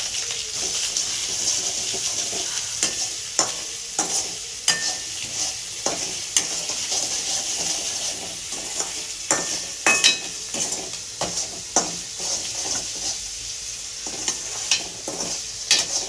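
Onions and green chillies fry in a pan under a constant sizzle, with repeated sharp scrapes and knocks of a spoon stirring close up.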